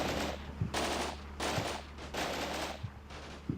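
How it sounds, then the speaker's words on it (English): Machine gun fire in the Combat Mission: Red Thunder war game comes in several loud, sustained bursts of rapid shots separated by brief pauses, with no talking. "Our right-hand machine gun team here is beginning to open fire on whatever was suppressing Voronov over here"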